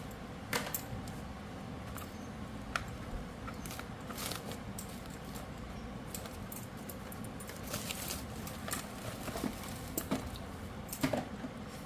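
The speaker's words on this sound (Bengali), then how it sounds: "এবারে মাশরুমগুলো ওর ভেতরে জলের ভেতরে ঢেলে দেব এইভাবে" Three packets of mushrooms tipped into a large pot filled with plenty of water, making a steady, close, wet splashing and crinkling patter with scattered sharper knocks and no talking.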